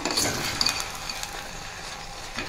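Jaggery rice is stirred in a pan as the jaggery melts, giving a soft scraping and faint sizzle with occasional light clinks of the spoon against the metal, steady and close, without speech.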